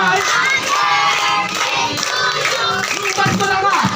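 Guests at a child's birthday party clap in rhythm amid a noisy room, with voices chattering and calling out over the clapping throughout.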